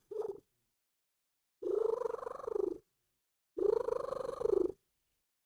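A house cat purrs close up in slow, rhythmic cycles, with three purring breaths separated by short silent gaps and no talking.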